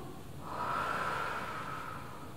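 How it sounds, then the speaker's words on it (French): One deep, audible breath is drawn through the nose during a gym stretching exercise, a close, soft airy rush that swells and fades over about two seconds. "Encore 2 grandes respirations."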